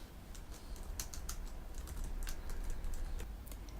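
Quiet computer keyboard typing, with soft irregular keystroke clicks scattered across the clip over a low steady room hum, while a new file is being named.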